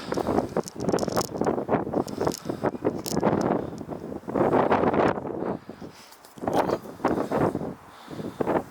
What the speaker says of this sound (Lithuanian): Labai vėjuota